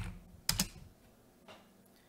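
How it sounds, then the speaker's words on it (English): A root password is typed on a computer keyboard as a few quick key clicks, one brief close burst followed by a fainter tap, in a quiet room. "Type in the password, your root password,"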